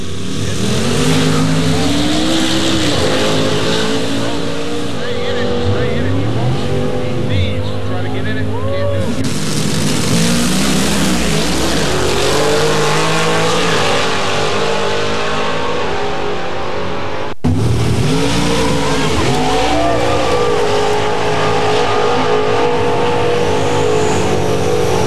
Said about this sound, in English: let's check back with the hot rod cars to see how they're faring in time trials